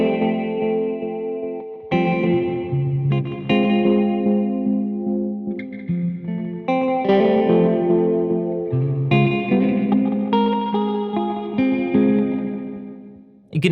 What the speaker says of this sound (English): we are going to set the reverb, which is right here